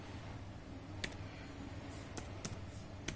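A few sparse, faint keystrokes on a computer keyboard, isolated clicks spaced apart over a low background hum.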